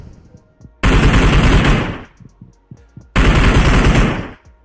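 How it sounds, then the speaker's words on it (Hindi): Two loud, close bursts of automatic gunfire from a mobile battle-royale shooter game, each lasting over a second, separated by a short gap with faint clicks and soft game sounds. "टावर में गन चलाऊंगा।"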